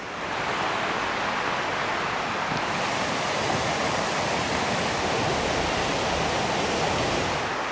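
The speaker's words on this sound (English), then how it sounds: "Definitely a different and also bigger river. This one's La Sarine" La Sarine river rushes steadily along the Alpine Panorama Trail near Charmey and Gruyères in Switzerland, a dense, loud, constant wash of flowing water with some wind, no talking.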